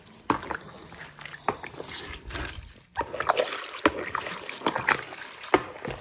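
Hands squish and splash through pickled sea cabbage vegetables with chili in brine, giving close, wet, irregular sloshes and drips with a few sharper taps.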